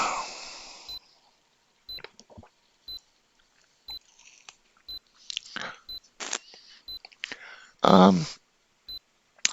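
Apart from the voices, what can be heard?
countdown timer beeping each second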